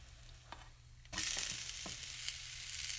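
A blueberry pancake brushed with butter is flipped in a hot pan. After a quiet moment it bursts into a loud, steady sizzle that carries on to the end, with a few soft knocks from the utensil.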